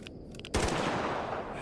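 A short burst of test shots from a rifle with a broken bolt in the shooter STALKER GAMMA: after a quiet moment, a sudden loud report rings out, followed by a decaying echo and a second quicker shot.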